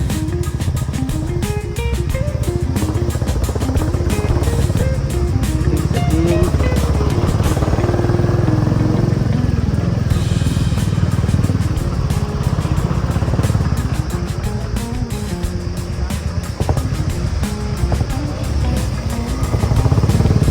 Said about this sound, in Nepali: मान्छेहरू स्कुटर पनि लिएर आइदिरहेको छन्